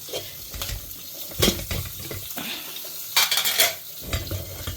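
Curry leaves, asafoetida and green chillies sautéing in a pan, with intermittent stirring scrapes and clinks of a utensil against the metal over a soft sizzle, fairly close and moderately loud.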